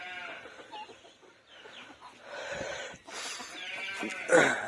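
Ducks and chickens on a small farm in cold winter weather, several scattered clucks and calls close by, some overlapping near the end.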